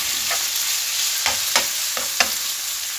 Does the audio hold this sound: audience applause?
no